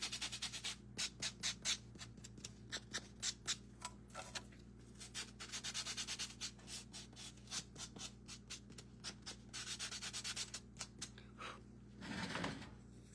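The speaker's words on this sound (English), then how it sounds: "we're going to take our sand and sponge, and just from where that's a little bit rickety, we're gonna smooth it out" A sanding sponge rubs back and forth along a rickety wooden edge in quick, rhythmic scrubbing strokes, close and steady with no talking.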